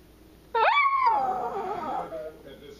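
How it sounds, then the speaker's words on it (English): A Papillon dog howls up close in one sustained, wavering tone lasting well over a second, then tapers into a quieter whine. "You howl like a boss!"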